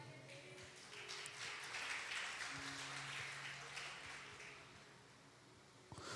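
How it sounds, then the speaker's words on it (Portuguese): Faint applause from a church congregation during a family worship service, a soft continuous patter of many hands swelling slightly and then easing off, with a low hum and a sharp knock near the end. "Levanta a sua mão e aplaude o Senhor."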